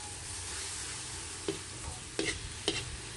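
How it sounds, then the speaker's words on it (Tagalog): Hotdogs frying in a pan as a base for spaghetti, giving a steady close sizzle with a few sharp stirring scrapes near the end, with no voices. "Luto muna natin yung hotdog bago natin ilagay yung ating sauce."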